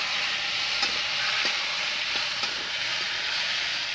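Potatoes stirring and frying in a pan, a steady dense sizzle running throughout with a few soft scrapes of a spatula, close and moderately loud, no voices.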